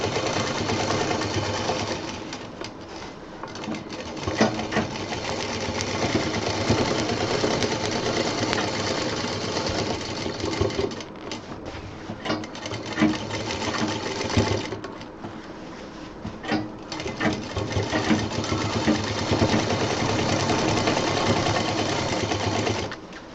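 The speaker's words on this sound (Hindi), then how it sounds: "जो अंदर सिलाई हुई है उस पर डबल सिलाई चल जाएगी" Steady, continuous whir and rapid needle chatter of a sewing machine running a double line of stitching along a fabric college bag seam, close and unbroken with brief slowdowns, no speech.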